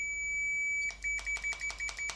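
A multimeter in continuity mode beeping while testing the trigger switch of a MIG/MAG welding torch, a steady tone followed by a rapid series of short, clicky intermittent beeps as the contacts are worked.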